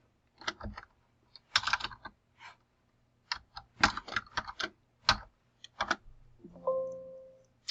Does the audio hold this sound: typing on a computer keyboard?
yes